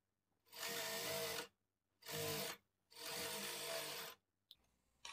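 A sewing machine stitches a blouse belt in three loud motor-driven bursts of about a second each, with short pauses between them, followed by faint handling clicks.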